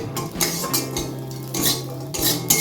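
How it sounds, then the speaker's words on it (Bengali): Cashews and raisins being fried in a pan give off a faint background sizzle, while a metal spoon stirs and taps against the pan in repeated clinks and scrapes. "আমি প্রথমে আগে কাজু কিশমিশ ভাজছি এই দেখুন আমার কাজু কিশমিশ ভাজা প্রায় হয়ে এসছে"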